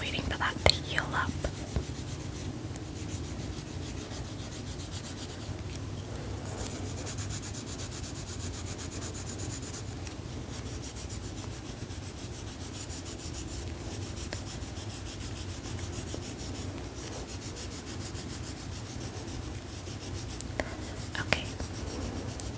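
Nail file rubbing across fingernails in a quiet whispered nail-care setting, a close, soft, steady scratchy rasp running continuously, with faint whispering over it.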